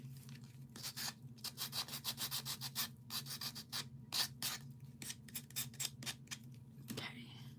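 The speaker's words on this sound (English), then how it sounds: "It's got to be sanded." Someone sands a handmade craft piece by hand, a series of quick, rhythmic rasping strokes close by, some in fast bursts and others spaced apart, with a steady low hum underneath.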